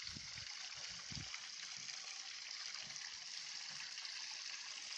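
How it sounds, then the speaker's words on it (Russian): Spring water running down a flight of stairs into a pond with reeds, a constant soft rushing trickle heard from nearby, with a few faint low knocks early on. "Сверху вниз спускается родник."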